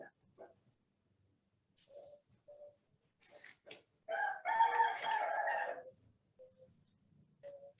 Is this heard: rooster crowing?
yes